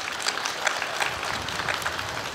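An audience at the opening of a new school breaks into loud, sustained applause, many hands clapping evenly and densely throughout with no speech over it.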